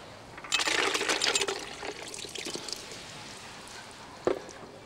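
Uncooked tomato puree with lots of ice cubes being poured, a wet splashing rush with clinking bits early on, then quieter trickling and one sharp knock near the end, close up and without talk.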